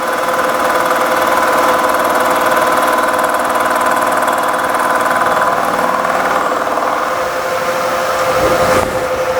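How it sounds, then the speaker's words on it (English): A milling machine runs steadily as its cutter passes across a part, giving a constant mechanical hum and whine with a faint scratching contact, ending with a brief disturbance near the end. "Turn the machine on. See it scratch the part, come across."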